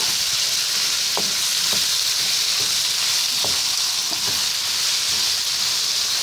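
Pork laing sautéed with bagoong alamang shrimp paste sizzles loudly and continuously in a pan, with a few soft scraping stirs cutting through the steady frying hiss.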